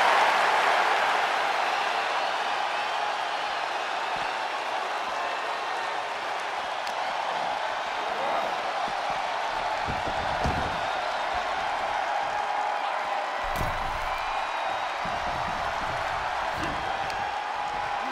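Crowd noise fills the arena during a WWE 2K23 no holds barred match, a loud sustained roar of applause and cheering that runs throughout with a few sharper thuds.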